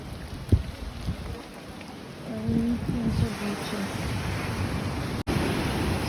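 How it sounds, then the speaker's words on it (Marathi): Rough sea waves churn in heavy rain at Cola beach in Canacona, a broad steady roar with wind, close and continuous, with a brief thump near the start. "समुद्र जरा जास्तच लाटांनी खपडलेलं आहे खूप पाऊस आहे आणि खूप लाटा आहे"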